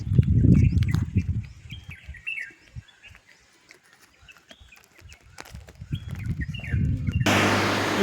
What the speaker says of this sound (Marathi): गावाला पक्ष्यांचे आवाज छान असते